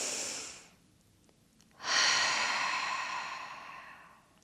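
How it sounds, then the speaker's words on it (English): A deep breath during a standing home exercise routine: a breath trailing off, a short pause, then a long, close, airy exhale lasting a couple of seconds, with no talking. "One more deep breath."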